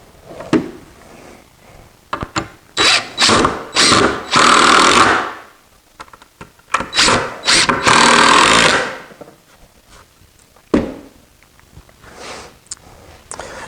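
A drill drives 2.5 inch screws into a traditional wooden sawhorse, several loud close whirring bursts in two clusters, with knocks and clatter of handling between them and no talk.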